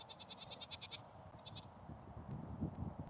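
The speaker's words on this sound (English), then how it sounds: "19 more pygmy goats to add to the herd." Pygmy goats newly added to a farm herd bleat in quick wavering calls, a rapid trembling burst followed by a shorter one, moderately near over low background rustle and shuffling.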